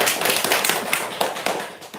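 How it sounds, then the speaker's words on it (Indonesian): An audience claps hands together in a dense, steady patter of many overlapping claps, fairly close and loud, with a few sharper slaps standing out and no talk over it. "Tepuk tangan dulu Pak ya"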